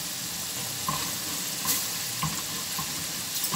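Garlic frying in a pan with peppers and tomatoes for moussaka, a soft continuous sizzle with occasional faint stirring clicks, fairly quiet and close, with no talking.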